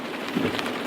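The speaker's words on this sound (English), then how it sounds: "I got rain all over my car." Steady rain patters on a car waiting at a Starbucks drive-thru, a dense, close, continuous hiss with no talking.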